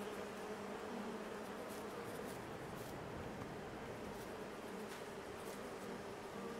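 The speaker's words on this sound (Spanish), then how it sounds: "Sientan el sonido de las abejas." In Farming Simulator 22, a swarm of bees buzzes steadily on a farm field, a faint continuous drone with no talking.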